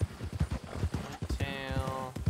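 Horse hooves clip-clopping in Red Dead Redemption 2, a quick regular trot close by, with a brief whinny-like tone partway through.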